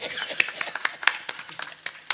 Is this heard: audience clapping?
yes